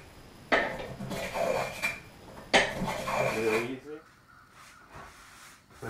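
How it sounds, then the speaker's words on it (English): A hand plane takes light passes along a bamboo rod strip, giving two scraping, rasping strokes of wood shaving on a workbench at close range, followed by quieter handling sounds. "I'm just planing very lightly. I'm just taking off high points."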